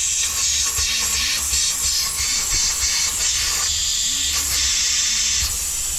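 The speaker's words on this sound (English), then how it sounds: "All right, so that is leaking. It's the hose from the inner cooler to the throttle body." A boost leak on a 2022-2023 Sea-Doo, escaping from the hose between the intercooler and the throttle body, makes a steady, close, loud hiss. It holds for the full stretch over a low rumble, with no talking.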